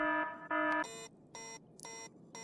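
Factorio 2.0 in-game alarm: a louder repeating alarm tone first, then a quieter electronic alarm sounding as evenly spaced beeping bursts, four of them, alone without talk.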